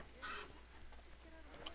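Brief chicken clucking in Assassin's Creed 3, faint and partly masked by a steady background hum, with a couple of short bursts.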